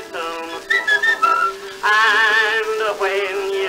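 A melodic tune is whistled on an old 1915 recording, with clear sustained notes and short phrases, loud and alone.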